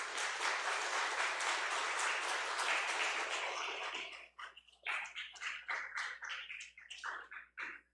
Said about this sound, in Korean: 우리 목사님 나오실 때 박수로 환영하면 좋겠습니다.